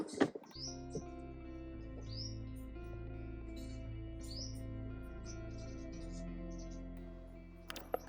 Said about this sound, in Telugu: బర్డ్ సౌండ్స్ చూసారా ఎంత బాగా వినిపిస్తున్నాయో